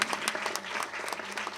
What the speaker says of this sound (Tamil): இந்த படம் நல்லா ஓடணும்னு கைத்தட்டுங்க எல்லாரும்.